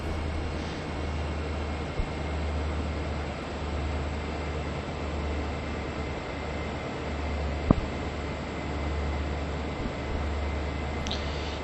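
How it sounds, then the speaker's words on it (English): An SD40 diesel locomotive in Train Sim World 3 rumbles with a steady, droning engine note at a constant level, with a faint click or two and no clear change through the stretch. "The SD40 shifts gears"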